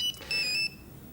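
A mobile phone rings in short electronic tones: a quick beep followed by a sustained two-tone trill, fairly close and clear, with no talking over it.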